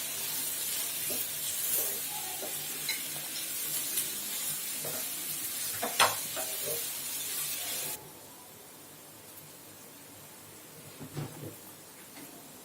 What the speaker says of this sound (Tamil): இது திரும்ப நல்லா மிக்ஸ் பண்ணி விட்டுடலாம்.